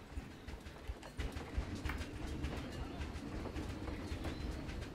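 A passenger train ride in the zoo-building game Planet Zoo, with steady rolling rumble and rhythmic clacking under scattered bird chirps and ambient park sounds, no talking.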